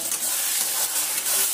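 Masala spices sizzle and hiss in a hot pan as they are stirred, a bright crackling fry without any talking.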